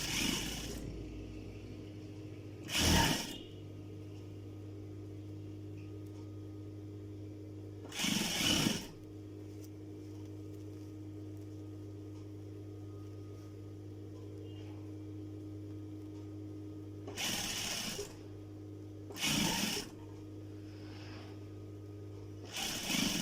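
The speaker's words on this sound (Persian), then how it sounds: "با دقت کار رو بدونه که کش بیاد میدوزیم." A sewing machine stitches a knit jacket sleeve in several short, loud bursts of whirring separated by long quiet gaps, with a steady low hum running underneath.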